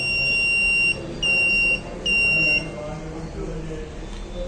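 Three loud, sustained electronic buzzer tones from a transmission-line fault alarm, with short gaps between them, followed by a quieter hum with faint background noise.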